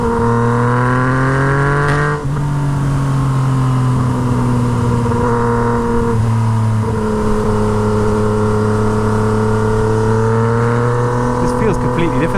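A Yamaha MT09 motorcycle with a straight-pipe Toce exhaust roars loudly and continuously, its engine note dipping and rising through quick-shifted gear changes while the rider talks over it.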